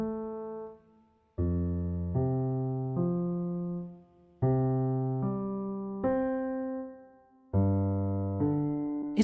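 Piano practice exercise played with both hands, clear sustained chords struck one after another in a slow stepwise pattern, each decaying before the next, in a quiet room.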